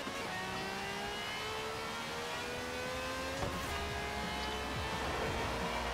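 Game car engine in Forza Horizon 4, held in fourth gear on a road with traffic, a steady droning rev with rising harmonic whine and a brief louder burst mid-way, continuous and close throughout.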